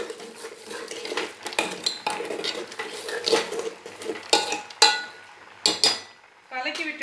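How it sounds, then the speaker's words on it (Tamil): Rock salt stirred into a Kongu-style ash gourd buttermilk curry in a metal pot, with a ladle scraping and clinking against the sides in several short bursts, close and fairly clear. "இந்த மாதிரி கல்லுப்பு போட்டு இந்த மாதிரி கலக்கி விட்டுக்கலாம்"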